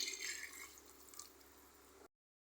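Water poured into cooking chicken in a pot for biryani, a soft, close splashing trickle lasting about two seconds before cutting to silence.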